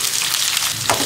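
Onions sizzle loudly in hot oil for a fish curry, a bright continuous crackling hiss close by with a brief stirring scrape near the end.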